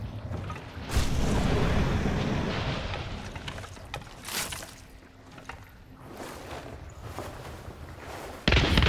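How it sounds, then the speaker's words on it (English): A single gunshot in a bounty hunt video game: a sharp crack around one second in, followed by a long booming tail, with quieter scattered impacts later and another sharp report near the end. "I shot him in the leg, really."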